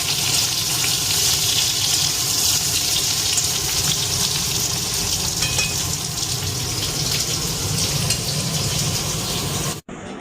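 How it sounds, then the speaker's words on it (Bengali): Pointed gourd and potato pieces fry in hot oil, a loud, dense, steady sizzle that fills the scene up close without pause until it cuts off near the end, with no voices. "দিয়ে পটল আর আলুটাকে একটু লাল লাল করে ভেজে নেব"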